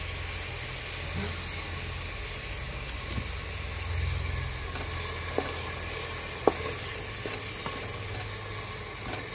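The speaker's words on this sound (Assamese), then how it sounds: "নহৰুখিনি মই ভালকৈ ভাজি ল'ম" Garlic and onion fry in a pan for mutton dal gosht, a quiet, steady sizzle with occasional sharp clicks of stirring over a low background hum.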